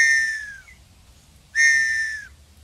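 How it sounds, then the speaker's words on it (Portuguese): Two loud, shrill whistle blasts, each under a second long, separated by a short pause, close by and with no talking. "Apito."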